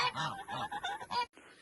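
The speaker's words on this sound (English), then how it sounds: "Here, let's throw some for the geese." Geese honk nearby outdoors in a run of loud, nasal calls that stop suddenly just before the end.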